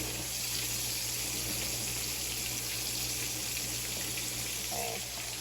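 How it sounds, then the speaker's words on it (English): Water from a kitchen tap runs steadily as a fork is rinsed, a constant close hiss of flowing water throughout with no talking. "You rinse that fork off?"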